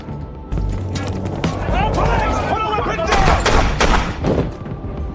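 Police officers open fire in a tense film shootout, several sharp gunshot bursts cracking over a dense, loud mix of score and effects, with a voice talking throughout.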